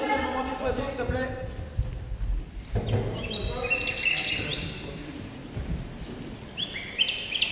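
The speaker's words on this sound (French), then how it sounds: "La régie, c'est le moment des oiseaux" A recorded birdsong effect plays during a theatre play, with chirps and tweets rising over a busy room. Clip-clop-like knocking and voices run underneath throughout.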